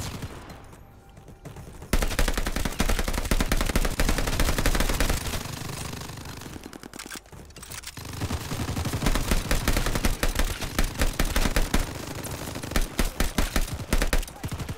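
Sustained gunfire in the Call of Duty: Vanguard Zombies video game, with rapid automatic bursts and dense overlapping shots that are loud and nearly continuous after a quieter opening couple of seconds.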